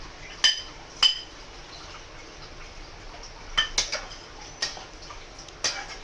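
Paneer pieces go into a cooking pot of rice for paneer pulao, giving a handful of sharp metallic clinks and taps of a utensil against the pot, spaced irregularly over quiet background.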